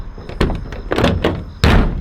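A race car door slams shut, a loud thunk near the end after several softer knocks and handling bumps, close up with no talk.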